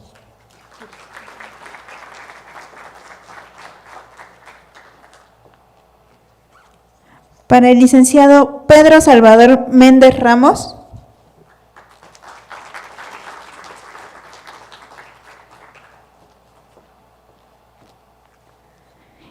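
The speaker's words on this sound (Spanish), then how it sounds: "Un fuerte aplauso para el maestro ingeniero José Sabino Varela Arambulo" Audience applause for panelists at an engineering cost audit panel: two moderate stretches of clapping, one before and one after a man's spoken introduction in the middle.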